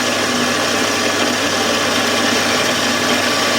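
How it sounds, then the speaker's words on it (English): A Warco metal lathe drills a hole about 15 mm deep into a metal block, giving a steady, continuous machine hum with a constant motor whine. It is close and even, with no talking. "I'm just going to drill this maybe, I don't know, 15 mil deep"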